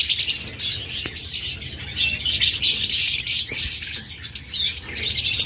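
A pair of lutino red-eye lovebirds squawk and chatter in shrill, overlapping bursts, loud and close, with a few wing flutters and no talking.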